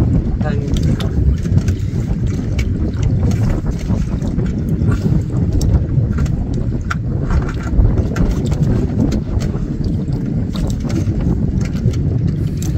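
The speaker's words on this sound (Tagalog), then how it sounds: "Medyo may kalakasan na po ng hangin dito sa labas mga kapisyon." Strong wind roars steadily against the microphone outdoors at a fishing spot in the Philippines, a constant low buffeting rumble with no pauses.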